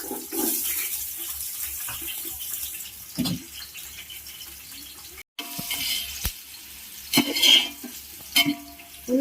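Onions fry in oil with bay leaf and whole spices for Hyderabadi dum biryani, a soft bubbling sizzle with intermittent stirring scrapes and a brief dropout midway, louder bursts toward the end.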